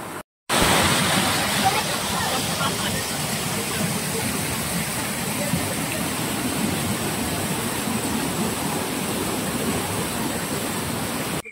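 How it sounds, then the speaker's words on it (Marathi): Strong rushing stream water flows steadily and loudly throughout, a dense continuous roar near the listener in a Konkan village. "तर फ्लो भारी आहे बघा ना. पूर्ण खेचून जातं."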